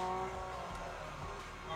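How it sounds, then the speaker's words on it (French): Racing car drifting in a video game played on an Android TV box, with a steady engine drone and a long tire squeal throughout, loud and continuous. "Dérapage contrôlé et tout."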